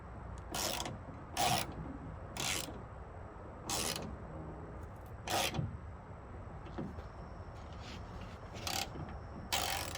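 Short repeated ratcheting bursts from a hand wrench tightening a bolt while installing a tailgate assist on a Ram pickup, about seven quick clicking runs spaced across the stretch at moderate volume, with no talking.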